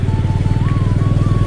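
A motorcycle idling nearby as it is parked at a park, a steady loud rhythmic engine putter with a low pulsing beat throughout, no talking.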